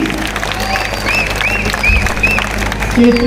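A political rally crowd applauds loudly, a thick, continuous roar of clapping with shouts and whistle-like calls mixed in, sustained from start to finish.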